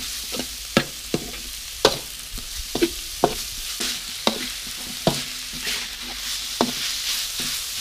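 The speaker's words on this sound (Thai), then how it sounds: "ผัดให้หมูสุกก่อนครับ" Minced pork sizzles as it is stir-fried in a pan for a Thai dish with curry paste and mixed vegetables. A spatula scrapes and taps in an irregular rhythm of sharp strokes over a constant low frying hiss, with no voices.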